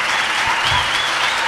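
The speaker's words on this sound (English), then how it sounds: "A final round of applause for our speaker" An audience gives a final round of applause to a speaker after a talk, a dense, even roar of many hands clapping continuously and filling the room.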